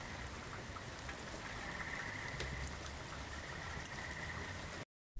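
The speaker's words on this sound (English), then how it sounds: "I've got this sample here, which is some rain." A steady rain sample used for sound design gives a dense, even hiss of falling drops with soft patter throughout, then cuts off abruptly at the end.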